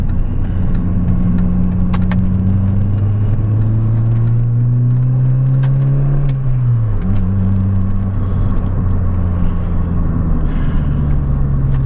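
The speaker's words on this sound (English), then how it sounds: "that's what the exhaust sort of sounds like." A Mini's exhaust drones steadily as the car accelerates, its engine note rising in pitch over several seconds, then dropping briefly as if changing gear before climbing again, loud and close inside the car with no talk.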